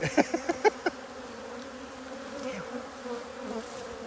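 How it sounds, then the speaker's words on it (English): Honey bees buzz densely inside a full hive, a close, continuous hum, with a few sharp knocks near the start and no talking. "This is just a full hive, man."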